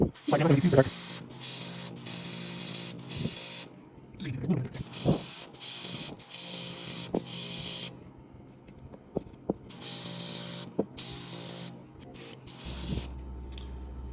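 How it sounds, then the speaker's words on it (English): Several short bursts of spray-paint hiss onto a toy come and go, separated by pauses, with quiet handling noises and a low hum between them. "I'm gonna go in and spray some toenails"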